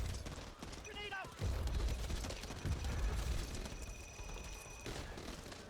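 Grenade blast in the Back 4 Blood video game, a low booming explosion rumbling for several seconds amid gunfire and game sounds, with a short chime just before it.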